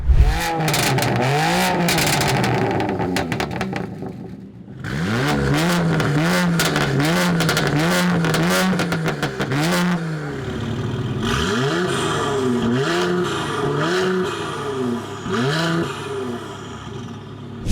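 A sports car engine revs repeatedly, rising and falling in loud bursts with throaty exhaust and a few pops between revs.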